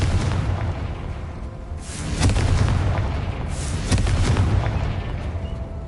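Two heavy blasts from the Confringo fire spell in the Hogwarts Legacy video game, each a loud booming burst around the second and fourth seconds, set over a constant rumbling game soundscape with no talking.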